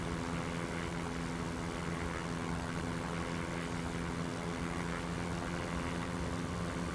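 A CubCrafters XCUB propeller aircraft in X-Plane 11 drones with a steady, loud engine and propeller roar, continuous and unbroken throughout, with no speech.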